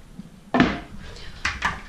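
A kitchen cupboard door in a small studio apartment opens with a sharp wooden knock and rattle, followed a moment later by two lighter clacks, near and fairly quiet, with no voices.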